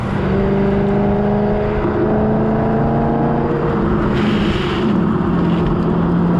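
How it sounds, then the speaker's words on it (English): A 2007 BMW M3 V8 engine runs under steady load and rises in pitch, with a smooth, purposeful note and some wind noise, loud and close. "The engine's quieter than I expected. Yeah, it's got a nice note."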